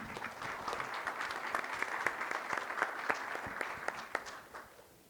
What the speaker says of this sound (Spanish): Les damos un fuerte aplauso para comenzar